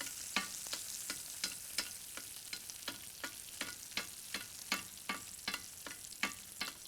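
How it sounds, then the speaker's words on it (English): Butter bubbling and spattering in a hot pan on the stove while pork tenderloin is basted, a steady bed of sizzle broken by frequent sharp crackles and pops, close and fairly quiet with no talking. "you can see that butter is still boiling, kind of bubbling"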